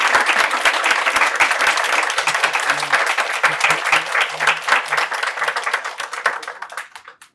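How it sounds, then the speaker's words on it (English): A loud, sustained round of applause from the audience at an artist talk, dense overlapping clapping close by that thins and fades toward the end, with a faint low hum beneath. "Another round of applause for."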